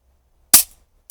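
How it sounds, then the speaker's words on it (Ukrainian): A single sharp crack from a Marksman Repeater air gun fired into a chronograph, a brief close pop followed by a tiny faint click. "Перший постріл в хронограф, дивимось на швидкість."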